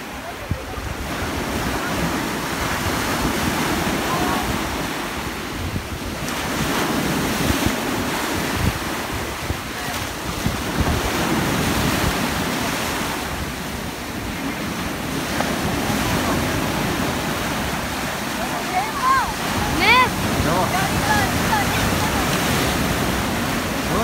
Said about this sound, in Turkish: Evet arkadaşlar gördüğünüz gibi çok dalga var